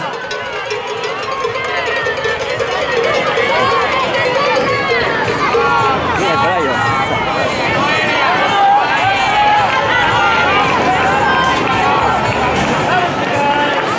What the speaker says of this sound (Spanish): Aplaudir y animar a las corredoras, ánimo chicas